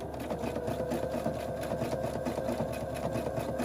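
Sewing machine fitted with a J foot stitching along fabric edges for a pocket tissue holder, a steady rapid mechanical whir with fast rhythmic needle ticking, close and continuous.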